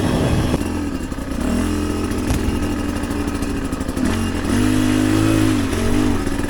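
A Chinese dirt bike engine runs close and loud, a continuous rough motor note that rises and falls with throttle blips, with no talking over it.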